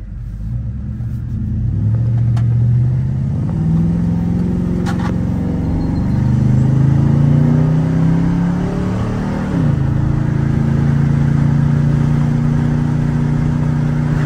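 A cammed 4.8 Chevrolet Silverado V8 with a higher-stall torque converter revs under moderate throttle, its loud lumpy rumble rising and falling steadily through several pulls, with no talking.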